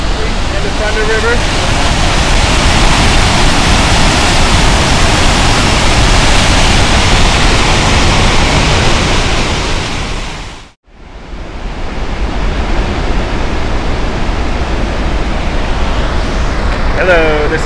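Thunder River waterfall in the Grand Canyon roars as a loud, steady wash of falling water close by, dropping out for a moment near the middle before resuming at full strength.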